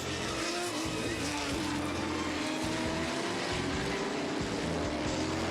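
Loud, continuous roar of Formula 5000 race car engines passing close by, a dense unbroken drone with rising engine whine.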